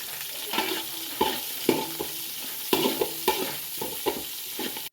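Green chilli and onion sautéing with garlic and cashews in a pan for garlic rice, a steady sizzle broken by repeated scraping stirs of a spatula, fairly close and alone without any voices.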